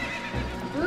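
A horse in a video game lets out a short, close, loud whinny that rises in pitch at the end, heard alone with no talk.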